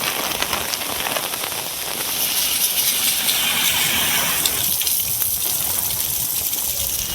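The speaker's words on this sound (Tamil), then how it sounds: "கொட்டிய மழையால் தாழ்வான சாலைகளில் மழைநீர் பெருக்கெடுத்து" Heavy rain pours down steadily in a dense, continuous hiss that stays loud and even throughout, with a faint splash of running water beneath and no voices.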